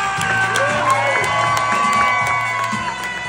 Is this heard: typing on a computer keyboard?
no